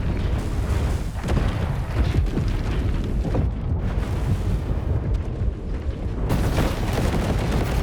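Incoming missiles exploding in the War Robots Frontiers video game, a continuous barrage of heavy booms and rumbling blasts, loud and dense throughout with no talk.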